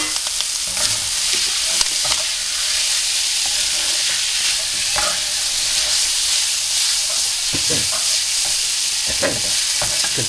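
Spaghetti tossed in a hot pan for a Thai-style stir-fry, a continuous loud sizzle and hiss with scattered clinks and scrapes of stirring, close up and without voices.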